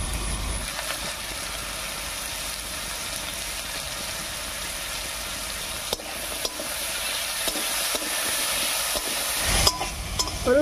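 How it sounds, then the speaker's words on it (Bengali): Cut potatoes with salt and turmeric are stirred in a hot frying pan, a steady close sizzle and hiss running throughout, with a scrape of the spatula near the end. "হলুদ লবণ দিয়ে খুব ভালো করে মিশিয়ে নিয়েছি"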